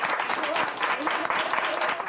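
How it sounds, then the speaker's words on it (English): Healthcare workers applaud as Quebec administers Canada's first dose of the Pfizer BioNTech COVID-19 vaccine, a steady close round of clapping with voices mixed in throughout. "with a smile and a round of applause from healthcare workers"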